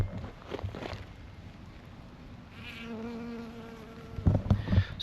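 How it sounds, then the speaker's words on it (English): Bees buzzing around pumpkin flowers in light drizzle outdoors, a soft hum that swells as one passes close midway, with rustling and handling noise at the start and end. "It's drizzling, but the bees are still out flying."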